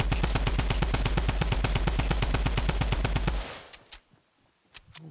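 Tommy gun firing in Fortnite Battle Royale, a rapid, loud, steady burst of about three and a half seconds, followed by a few scattered separate shots.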